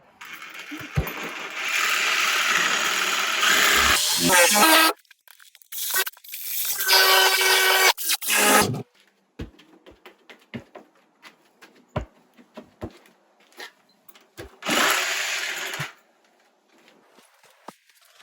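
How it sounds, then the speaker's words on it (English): DeWalt 20-volt brushless Sawzall with a demolition blade cutting through old rotten porch boards: loud, harsh rasping bursts of several seconds each, separated by pauses filled with scattered clicks and knocks. "This is the DeWalt 20-volt brushless Sawzall, and all I'm doing is taking a demolition blade"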